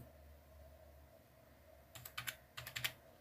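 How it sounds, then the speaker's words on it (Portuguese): A computer keyboard being typed on to enter a router login password: a quiet pause, then a quick burst of about ten crisp, close key clicks in two short runs. "Eu vou digitar aqui a senha de login"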